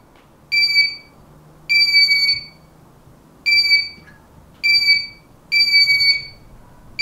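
Loud electronic beeping in five sustained bursts, each about a second long with short gaps, over a low background hum.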